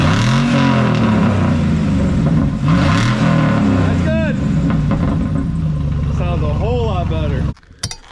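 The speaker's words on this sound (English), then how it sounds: "Give it a couple revs" A truck engine with its muffler removed revs up and down a couple of times, loud and close, with some talk over it, ending abruptly.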